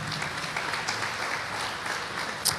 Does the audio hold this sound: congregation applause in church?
yes